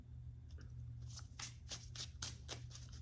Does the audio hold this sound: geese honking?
no